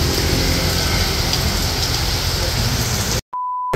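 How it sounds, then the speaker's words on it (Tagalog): Heavy rain pours steadily as a dense hiss on the way to church, then cuts off abruptly near the end, leaving a faint electronic tone. "At malakas nga po ang ulan."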